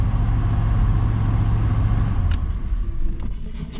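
A 1977 Ford LTD station wagon, left abandoned in a junkyard for 17 years with a carburetor needing work, runs and drives with a steady low engine rumble heard from inside, a few light clicks and rattles over it.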